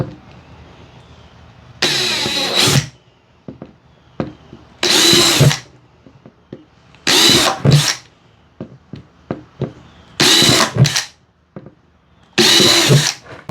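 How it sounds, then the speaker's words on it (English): Power drill with a 1/8 inch bit drilling pilot holes in five short bursts separated by pauses, close and loud, with small clicks and handling knocks between each run. "Got the pilot holes drilled with the 1/8 inch drill bits"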